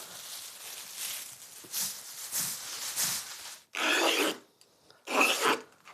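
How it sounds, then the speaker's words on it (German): Rough, rasping strokes of sandpaper rubbing over cane reed for chair weaving, a run of quicker strokes followed by two louder, longer scrapes. "Jedes einzelne Rohr muss sie erst schleifen"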